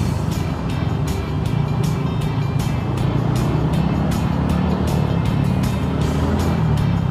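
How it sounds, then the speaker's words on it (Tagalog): Steady road traffic rumbles nearby, with engines droning and vehicles passing in a continuous, loud wash of sound. "Grabe po ang traffic, oh. Sobrang traffic."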